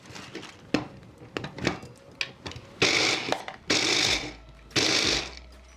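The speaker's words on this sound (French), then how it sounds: "je vais mettre ça dans mon mixeur et je vais mixer ça pour avoir des morceaux assez fins" A kitchen blender chops homemade cereal-bar ingredients into fine pieces. After some clinking and handling noises, it runs in three loud, whirring pulses of about a second each.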